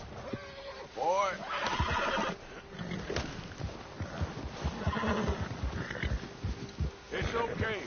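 In a video game, a horse whinnies and snorts amid hoof clops while a voice speaks calmly over it, the neighs rising in bursts near the start and again toward the end.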